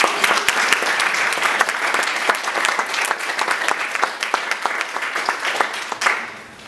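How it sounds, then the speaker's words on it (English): An audience at a panel presentation claps loudly in a sustained round of applause that fades away near the end, with no talking over it. "give our panelists a round of applause for the presentation"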